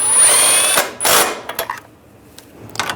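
A power tool whirs loudly in two short bursts while tightening headlight bracket nuts on a 2013-2016 Dodge Dart, followed by a few light clanks and taps nearby.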